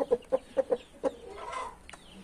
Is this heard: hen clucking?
yes